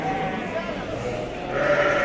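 Sheep bleat amid a busy, noisy crowd at a livestock market in Şarkışla, Turkey, with people talking in the background.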